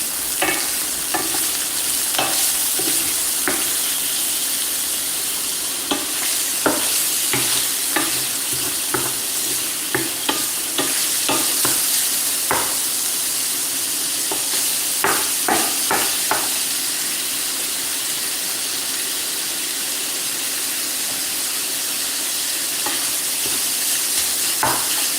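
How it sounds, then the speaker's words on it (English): Ground meat browns in a pan for nachos with a steady, loud sizzle throughout, broken by frequent sharp scrapes and clacks of a spatula stirring and turning the meat. "we'll let that meat brown up"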